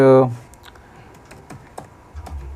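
Code is typed on a computer keyboard in a few scattered, light key clicks, faint and close after a short opening voice sound.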